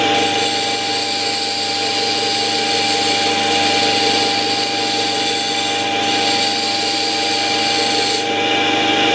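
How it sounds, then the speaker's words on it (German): Continuous grinding of chrome-vanadium carving chisel steel against a large abrasive stone, a loud, even rasping drone with a slight shift in tone near the end. "lässt sich auch sehr gut schleifen hier an diesem großen Stein"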